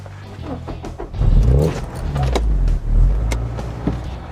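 A Porsche 924S engine rumbles with a deep, throaty low-end drone and brief swells as it revs, recorded from inside the cabin with a few faint clicks.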